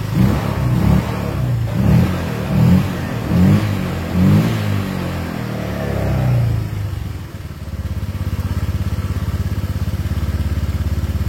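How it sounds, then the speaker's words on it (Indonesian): A Honda Vario 125 scooter engine, one with a fuse that keeps blowing, runs close by with several rhythmic revs before settling into a steady idle drone. "untuk sampai saat ini motornya masih hidup ya, masih hidup"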